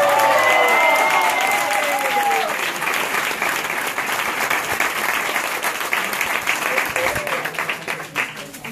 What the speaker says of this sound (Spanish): quiero que los que estáis aquí demos un aplauso doble